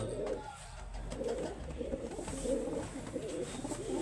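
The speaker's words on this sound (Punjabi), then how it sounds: "ਇਹ ਕਬੂਤਰ ਆ ਨੀਲਾ" A blue flying pigeon coos in low, repeated rolling phrases, fairly close and steady, with faint background noise and no talking.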